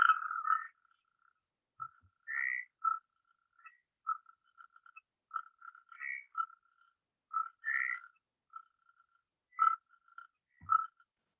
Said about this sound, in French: Et voilà le chant du crapaud calamite.